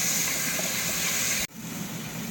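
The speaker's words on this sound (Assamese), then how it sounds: "এতিয়া ভাজি আছোঁ আলুটোৰ লগতে বিলাহী আলু একেলগে।" Potatoes and tomatoes frying together in a pan, a steady loud sizzling hiss close up that drops sharply partway through, then resumes more softly.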